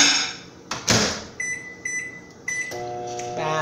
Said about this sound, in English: I'm going to put it in the microwave, probably for a couple of seconds to soften it.